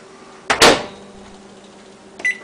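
A microwave oven hums steadily with a low, even drone, broken by a sharp clunk of its door or handle early on and a brief electronic beep near the end.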